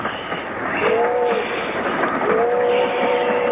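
Steady rolling rumble of a passenger train carrying diners to Chicago, with faint whistle-like tones rising twice through the continuous wash of rail noise; no one speaks.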